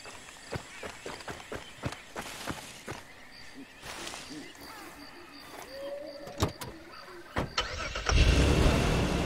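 A car races along in Far Cry 2, its engine running steadily under scattered sharp clicks and thumps, with the engine growing louder and rougher near the end.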